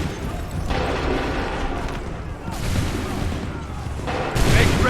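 Musket volley fire in Assassin's Creed 3, rolling crackling discharges layered over a noisy battlefield din, with a sharper, louder burst near the end; shouted commands blend into the chaos.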